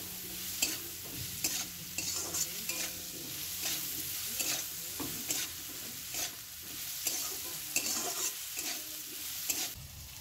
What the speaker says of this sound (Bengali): খুন্তি দিয়ে খুব ভালো করে নেড়ে চেড়ে সব দিকটা ভেজে নিচ্ছি